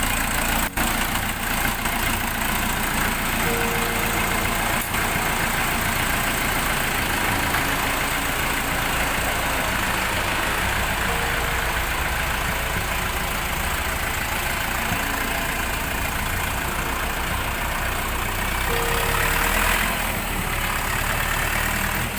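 An Orion RF 404 tractor engine idles with a steady rumble continuously at a constant pitch, with no speech and a couple of faint clicks early on.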